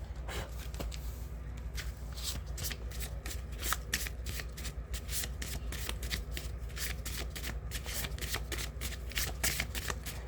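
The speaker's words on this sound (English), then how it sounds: "Let's pull a Greek oracle card." A deck of Greek oracle cards shuffled close up, giving a steady stream of crisp, rapid riffling flicks and soft slaps that continue for ten seconds without talk.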